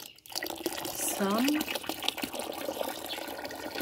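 Cold water being poured during preparation of a fermented sorghum drink, with a steady splashing liquid stream running throughout while a person talks over it.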